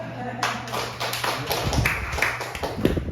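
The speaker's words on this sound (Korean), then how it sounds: "박수 한번 치죠" Congregation clapping during a Korean church service, a burst of hand claps starting after a brief pause and continuing unevenly at moderate loudness, with a voice and a low hum underneath.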